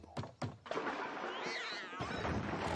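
A cat meows in an animated pony cartoon episode, with a couple of brief thumps at the start, then a drawn-out, wavering cry over background music and effects.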